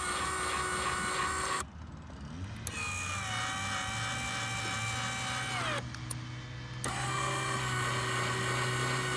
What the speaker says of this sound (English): it moves that linear actuator forward and back